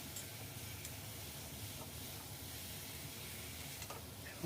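Masala paste for a spicy mourola fish jhal being fried with vegetables in a pan, a faint, steady hiss of sizzling with a few soft stirring touches, no voices.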